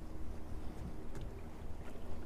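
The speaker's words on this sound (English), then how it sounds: "It's pretty windy," Steady wind buffets the microphone in a continuous low rumble outdoors, with no voices.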